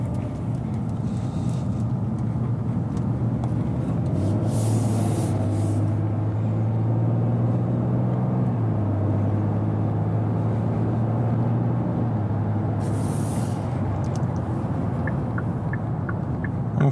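Cars and a heavier vehicle roll past on a road at night, heard from inside a parked 2022 Kia Telluride AWD SX V6; a steady low rumble that swells as each one goes by, with a brief hissy burst.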